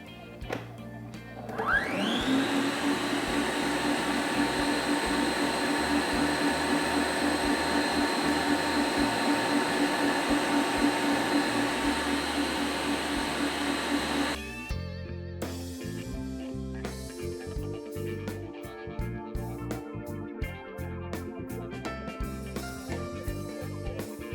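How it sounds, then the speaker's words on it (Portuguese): An electric stand mixer whirs steadily for about twelve seconds while beating eggs as sugar is added for a bem casado sponge, then stops, leaving scattered clatter and handling noise. "Eu vou voltar a ligar a minha batedeira e colocar aos poucos o açúcar."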